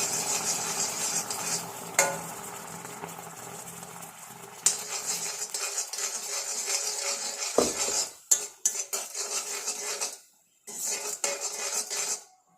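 Black cumin seeds being stirred in water in a pan, a utensil scraping and clinking steadily against the metal with a soft bubbling hiss, broken by brief pauses toward the end.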